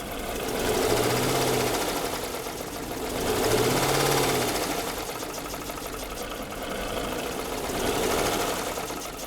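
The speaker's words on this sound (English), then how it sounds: "The engine sounds really knocky." A Jeep engine idling in a shop with a knocking fault gives a steady rapid ticking clatter over a low running hum that swells and eases slightly, close and continuous, with no speech.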